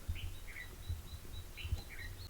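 Birds at an outdoor bird shelter with pigeons: repeated faint chirps and tweets scattered across the moment, over a soft low background rumble and light patter.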